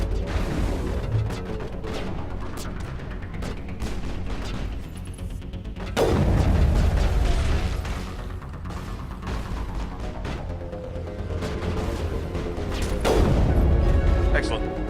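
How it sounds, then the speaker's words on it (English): Heavy cannon fire in the Mass Effect video game, with deep booming blasts landing near 6 and 13 seconds over a dense, continuous rumble of game combat. "those are crazy cannons"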